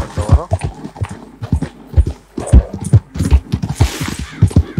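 Horse galloping in the Red Dead video game, a steady rapid clip-clop of hooves running throughout, fairly loud and close, with bits of talk mixed in.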